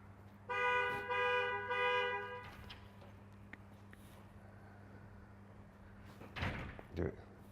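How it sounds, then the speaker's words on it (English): A loud, steady Volvo XC60 horn, set off remotely, blares for about two seconds at close range, then stops, leaving a low hum with a couple of thuds near the end. "you can just set off the horn and the lights remotely"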